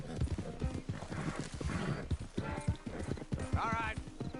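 Horses clip-clop in Red Dead Redemption 2, a steady run of close hoofbeats with a brief whinny near the end, while people talk over them.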